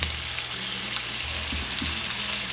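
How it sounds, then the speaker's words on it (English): A potato slice sizzles and crackles in hot frying oil in a skillet for Southern fried potatoes with onions, a steady broadband fry with a few sharper pops, close and fairly quiet with a low background hum. "I'm going to test the oil a little by putting the potato in there, and as you can see, it's sizzling"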